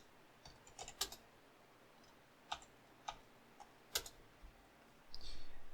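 Scattered computer keyboard key presses while deleting code, a few sharp isolated clicks spread out over quiet room noise, ending in a short muffled rustle.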